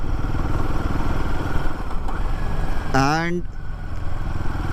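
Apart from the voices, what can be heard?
Royal Enfield Himalayan 450 motorcycle engine at low speed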